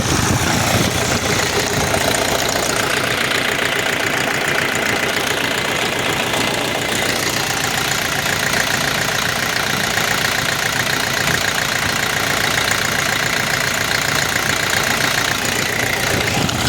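A Skaut 404C tractor engine, leaking a little antifreeze, idles steadily and loudly with a continuous rattling, knocking chug that holds without change.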